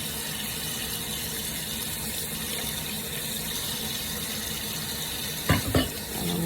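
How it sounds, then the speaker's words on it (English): Tap water runs steadily into a kitchen sink while chicken is washed, a constant hissing splash, then a few brief clunks and handling sounds near the end. "I'm gonna let them sit and wash in water."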